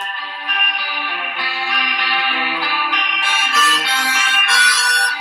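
A man sings the folk tune The Lambton Worm over warm instrumental backing, steady and clear, with a slightly processed, echoing quality.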